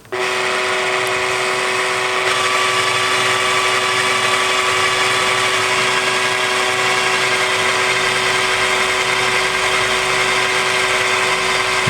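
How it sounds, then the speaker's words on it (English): A power drill drives a threaded rod while assembling racks, giving a steady, loud, continuous whirring motor drone that runs unbroken with no talk. "the drill chuck should slip against the threaded rod"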